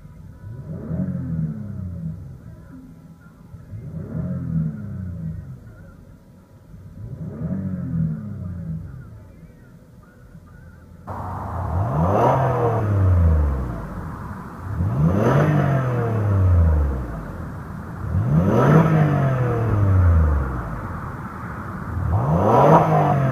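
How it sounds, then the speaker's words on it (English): A 2015 Lexus RX 350 SUV engine revs several times in rising and falling surges, exhaust rumbling between each rev, close and fairly loud. "Let's go ahead and give it a few revs and let you guys listen to the exhaust."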